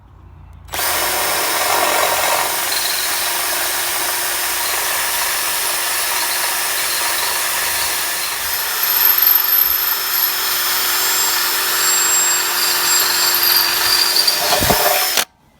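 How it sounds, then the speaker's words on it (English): A 5mm drill bit enlarges pilot holes in a Mantec sump guard for a Land Rover Freelander 2, a steady, loud whine running nearly unbroken for about fourteen seconds, with a brief rise in pitch midway and no talk. "So I'll enlarge these pilot holes slightly with this 5mm drill"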